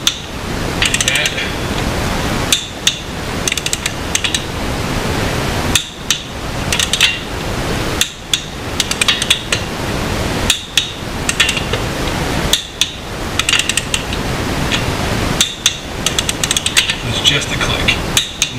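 A clicker torque wrench checks the lug nuts on a 2017–2019 Honda CR-V, with sharp metallic clicks that come again and again over a steady background, close and loud.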